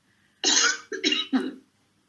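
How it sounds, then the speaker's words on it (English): Three harsh throat-clearing coughs in quick succession, close and loud, with silence around them. "Clearing that throat now."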